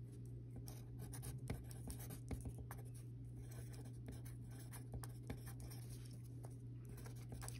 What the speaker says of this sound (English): I'm going to write that here